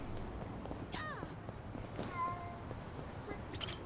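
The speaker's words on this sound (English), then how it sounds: "Wait, I heard a meow." A soft cat meow sounds once, fairly faint, over a low busy background of game ambience and light footstep-like taps in Yakuza: Like a Dragon.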